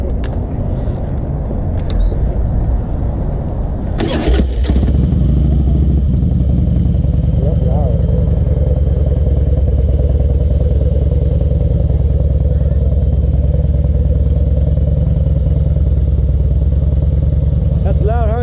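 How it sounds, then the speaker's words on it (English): Harley-Davidson motorcycle idles loud and close, a deep lumpy rumble that follows a short burst of revving and then runs steadily while people talk over it. "A real Harley. That's what we grew up with."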